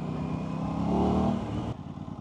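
Aprilia RS660 sports bike engine pulling smoothly up from around 2000 RPM while riding, a steady close rising drone with wind noise that drops off sharply near the end.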